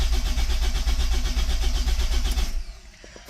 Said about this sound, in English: so let's start the vehicle up